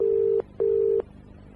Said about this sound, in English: Let's do another one of those by dialing a number right now.